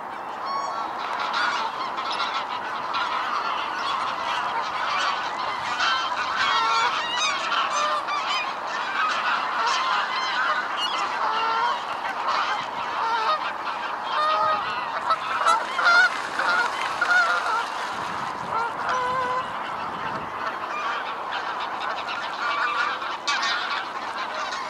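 Barnacle goose honking outdoors, with continuous overlapping nasal calls that sound like a busy flock, loud and close, steady throughout with no talking.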